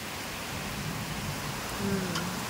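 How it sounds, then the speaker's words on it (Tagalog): Steady, dense hiss of heavy rain pouring down in a Philippine province, heard from a window, with a faint low murmur underneath and no voices. "Talagang grabe ang ulan."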